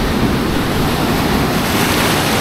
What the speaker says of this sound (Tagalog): ang lakas ng alon, no?